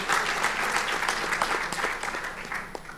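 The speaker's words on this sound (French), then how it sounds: "Et ça s'applaudit, s'il vous plaît." Seated listeners at a forum on regional industrial zones break into applause, a bright, even clatter of many hands that holds steady, then thins slightly toward the end.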